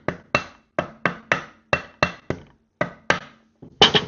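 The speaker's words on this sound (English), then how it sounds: "Just smack that in a bit. Rubber mallet always." A rubber mallet strikes a transmission being fitted into a Harley FXR about a dozen times in a steady, deliberate rhythm, each blow loud and close with a short ringing decay.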